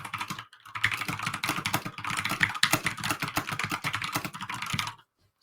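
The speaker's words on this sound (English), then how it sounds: "Is the typing extremely loud?" Rapid, continuous clicking of keys on a computer keyboard, close and fairly loud, a dense irregular patter that stops abruptly near the end.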